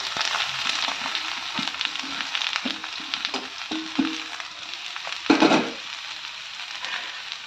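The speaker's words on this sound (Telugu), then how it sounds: "ఇప్పుడు పిడిచి పెట్టుకున్న పనసపొట్టు కూడా ఇందులో వేసేయాలి." Crushed jackfruit added to a hot tempering with curry leaves in a pan gives a soft sizzle, several scraping stirs and one louder sizzling burst near the end.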